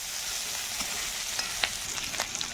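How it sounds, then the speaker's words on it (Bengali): Chopped onions fry in a pan for a pumpkin and prawn do-pyaza, giving a soft continuous sizzle with scattered small pops and crackles, close and fairly quiet, with no voices. "দেখো বন্ধুরা, পেঁয়াজটা একটু একটু ভাজা হয়ে গেছে।"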